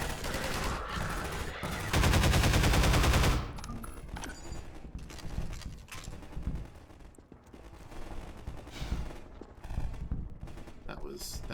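Gunfire in the Half-Life 2 video game, a dense burst of rapid automatic shots followed by scattered single shots and impacts, with a voice talking throughout.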